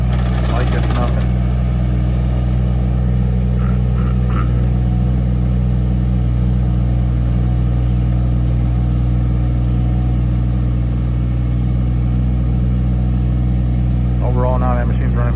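A Kymron Chinese excavator's engine runs steadily at a constant drone throughout, loud and close, during trenching work, with faint clanks and a short voice near the end.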